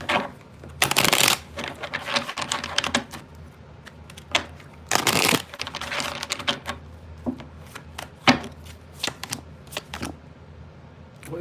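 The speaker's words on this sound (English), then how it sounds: "2 more shuffles, all right." Tarot cards are shuffled in several quick riffling bursts, crisp and close, separated by softer handling and taps.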